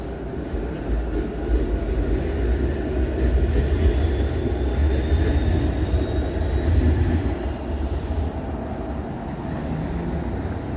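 A subway train in downtown Toronto rumbles steadily, a loud continuous low roar with faint high whine and hiss, no voices, the drone swelling slightly in the middle before easing.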